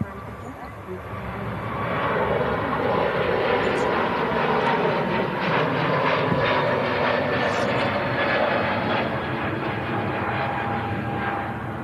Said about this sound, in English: Now goes the Turkish A321neo back to Istanbul.